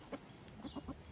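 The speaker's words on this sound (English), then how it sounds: "look at that chicken." A chicken gives several soft, short clucks in quick succession, faint and close, with no one talking.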